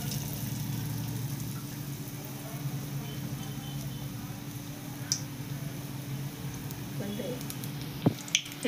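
Bread cubes dipped in gram-flour batter go into hot oil to fry as pakoda for Indian street food. A steady low sizzle carries throughout, with a few soft wet squishes and drips near the end, and a voice speaks over it.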